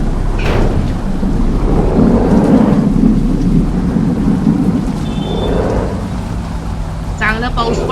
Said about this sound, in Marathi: चांगला पाऊस पडायला लागला.